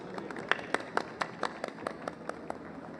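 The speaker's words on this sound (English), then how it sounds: "Ladies and gentlemen, let's welcome him with a round of applause." Sparse, scattered clapping from a small audience at the opening ceremony of the 56th International Film Festival of India in Goa, welcoming a government minister to the podium. Individual claps come in an irregular series, fairly quiet, with no voices.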